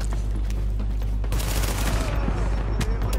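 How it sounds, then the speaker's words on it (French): Sustained machine gun fire in the shooter The Division, a dense rapid burst of shots with a heavy low rumble that intensifies midway and runs throughout. "c'était sûr, la mitrailleuse, elle a fait mal"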